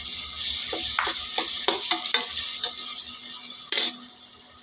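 Ginger-garlic paste and green chilies fry in a pan with a steady, moderate sizzle, broken by a series of light clicks and scrapes from a stirring spoon, with no talking.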